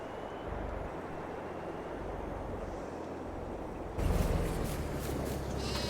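Sheep bleating in a farm setting, several quiet repeated bleats over a steady background hum that grows louder partway through.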